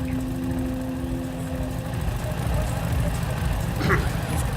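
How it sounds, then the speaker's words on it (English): A motorcycle engine in a game rumbles at a low idle with a slight rev swell near the end, steady and fairly close, with faint background game noise. "I came up to find Bogdan on the bike, revving the engine and hollering like an idiot"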